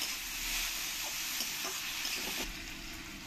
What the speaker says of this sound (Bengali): লবণটা দিলে পেঁয়াজটা আমার একটু তাড়াতাড়ি ভাজা হয়ে যাবে